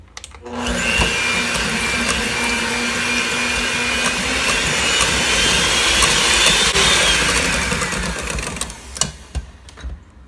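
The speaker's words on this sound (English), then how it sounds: "and then we'll whisk" Yogurt flavoured with a little vanilla is whisked for a raspberry popsicle base, a loud steady motorised whir running almost unbroken for about nine seconds before tapering off with a few knocks.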